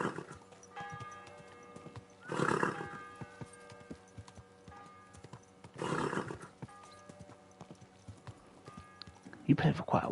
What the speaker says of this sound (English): A good horse.